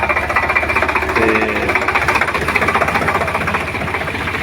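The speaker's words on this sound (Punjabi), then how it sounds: "ਇਹ ਟਰੈਕਟਰ ਜਿਹੜਾ ਸਾਡੇ ਕੋਲੋਂ ਦੀ ਲੰਘ ਰਿਹਾ ਦੇਖਦੇ ਹੋ" A tractor engine chugs loudly and close in a village during flooding, a rhythmic diesel thumping that holds steady as it passes, with no talking.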